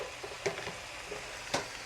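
Meat browns in a pan for homemade spaghetti sauce, a steady low sizzle with a couple of soft stirring scrapes, close and fairly quiet.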